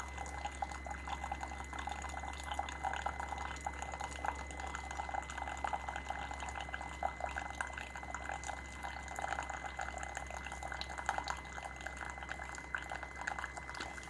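A Sboly single-serve coffee maker's pump runs while brewing, giving a steady low hum under continuous gurgling, bubbling and trickling liquid at moderate distance.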